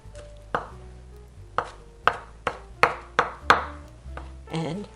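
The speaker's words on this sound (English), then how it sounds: "I'm chopping it also fine." A knife chops parsley finely on a board, with a few sharp spaced strikes that speed into a steady rhythm of close, crisp knocks. Brief talk follows at the end.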